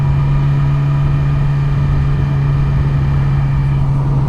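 A 2017 Yamaha R6 motorcycle engine while riding, a steady low drone with a strong constant hum and rushing wind noise throughout, loud and close with no talk.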